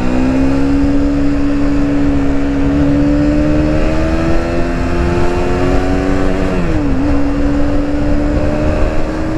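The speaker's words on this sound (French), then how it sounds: "On peut se permettre de faire de bonnes accélérations pour voir le moteur au maximum de sa puissance." A 2020 Aprilia Tuono 125cc motorcycle engine drones steadily and loud, its pitch rising gradually as it accelerates, then dipping briefly near the end before climbing again.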